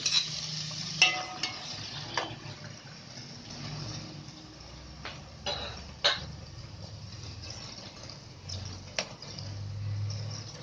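A pot of vegetable soup with tomato simmers on the stove, giving a faint, continuous bubbling hiss with occasional light clinks and soft taps of utensils, quiet and close with no speech.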